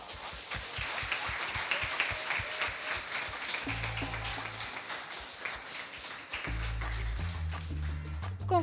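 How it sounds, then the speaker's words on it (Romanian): Applause at a beach beauty pageant for the Miss Bronzata award winner, crowd clapping mixed with loud amplified music carrying a thumping beat and deep bass tones that swell in and out. "Aplauze."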